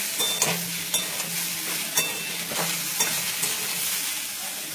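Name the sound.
vegetables frying and being stirred in a pan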